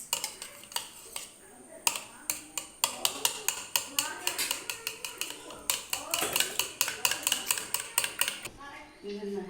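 A swan egg being mixed in a bowl, a rapid series of sharp clinking whisk-against-bowl taps in steady bursts, close and fairly loud, with a person talking briefly at points.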